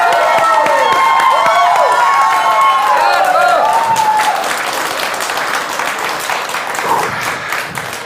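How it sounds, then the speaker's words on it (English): Loud audience applause with cheering greets a competitor taking the stage at the Estonian best sommelier competition, a dense sustained roar of clapping and crowd noise that gradually eases slightly toward the end. "Please make a round of applause from Lore Bistro"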